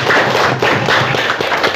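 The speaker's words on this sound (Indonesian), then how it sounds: "Tepuk tangan buat kelompok 3." Many hands clap together in a classroom as a student group finishes its presentation, giving a dense, close burst of applause with no talking.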